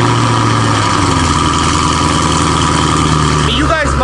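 A boosted SS car engine runs steadily at a loud, close idle with a deep, even rumble, and a voice speaks briefly over it near the end.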